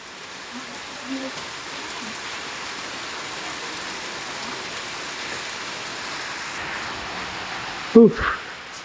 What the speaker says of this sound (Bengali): বৃষ্টির মধ্যে ভিজেই